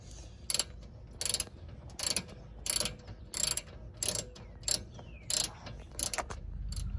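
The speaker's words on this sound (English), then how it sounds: "Now we're gonna tighten our caliper pin bolts down." A ratchet tightens the rear caliper pin bolts on a 2014 Dodge Caravan, giving about ten crisp, evenly spaced clicking bursts at close range over a quiet background.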